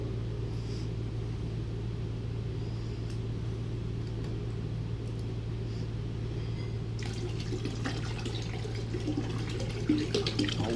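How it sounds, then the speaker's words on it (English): Liquid cleaner being poured into a bucket holding a gallon of water for soaking a rusty chrome hitch, giving a steady watery rush over a low rumble that turns splashier and brighter near the end. "So I want to pour this in it, or I'll get Michael to pour it in it"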